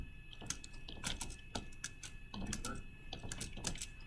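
Computer keyboard typing, irregular quiet clicks and taps in short bursts, faint and close, with no talk.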